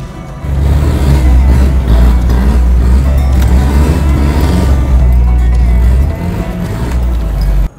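A Mitsubishi Delica 4WD ploughs through a mud bog, its engine droning and revving loudly and close, with churning mud and splashing throughout and a brief easing near the end.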